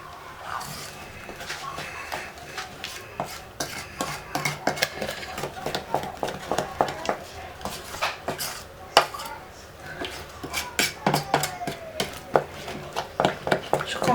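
A spoon scrapes and clinks steadily against a pan as a mango fruit paste mixture with sugar and pectin is stirred over lowered heat, in close, repeated strokes that grow more pronounced over time.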